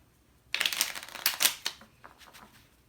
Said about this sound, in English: we'll shuffle the deck